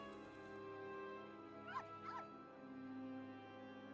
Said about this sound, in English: I like that slowed down bark.